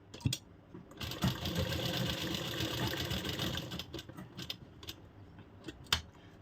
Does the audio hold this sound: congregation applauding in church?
no